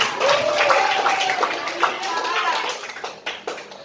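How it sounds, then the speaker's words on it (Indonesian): A class applauds a student, Ataya, with a short burst of clapping from a roomful of children that tapers off over a few seconds. Children's voices and chatter are mixed in around the claps. "Kita bisa tepuk tangan dulu Kak Ataya."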